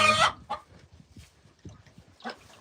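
A chicken shut in with rabbits in a homestead enclosure clucks in short, close, moderately loud bursts separated by quieter pauses.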